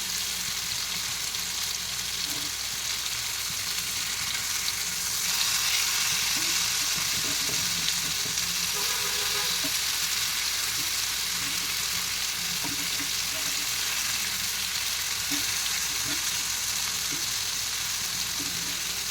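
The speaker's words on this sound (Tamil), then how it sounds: "10 நிமிஷம் ஆன பிறகு திருப்பி போடலாம் மீன்." Fish fry on a tawa in a steady, dense, hissing sizzle that fills the whole stretch, loud and close, with a few faint clicks underneath and no talking.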